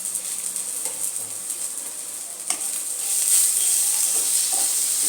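Spices and tomato being stirred in a frying pan for a fish-roe and okra curry, a steady close sizzle with brief scraping stir strokes, growing a little louder and hissier midway.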